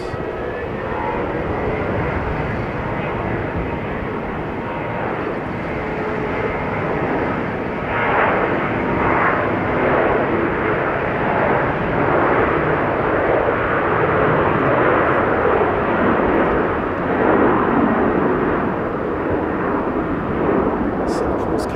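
Jet airliner at Sydney airport, a sustained broadband engine roar that holds steady and swells slightly over about twenty seconds, with a voice talking at points over the din.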